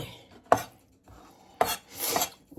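Crawfish being chopped on a cutting board, with two sharp close knife strikes followed by a longer scraping rub, loud and isolated with quiet gaps.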